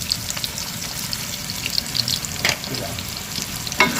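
Steady sizzling and bubbling as water is poured into squash frying in a pan, with faint watery splashes and a few light clinks, no talking.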